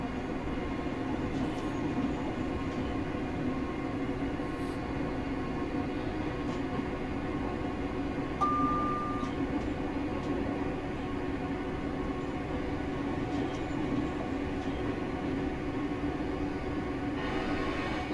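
Class 385 electric train running at speed in Train Simulator Classic, a steady cab hum and rumble with a constant low drone and a faint brief tone midway, no voices.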